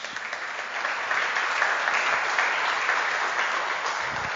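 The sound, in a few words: audience applause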